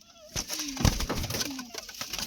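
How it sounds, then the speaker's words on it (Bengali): Domestic pigeons, a male and a female set down together, give a few soft coos and rustles at close range, faint and scattered over a quiet background. "পায়রা দুটো এক জায়গায় করে দিচ্ছি দেখো"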